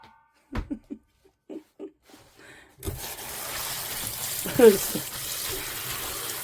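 Perilla and green tea leaves are washed in running water, a steady close splash and pour from a tap or basin that starts abruptly after brief talk and laughter and continues to the end.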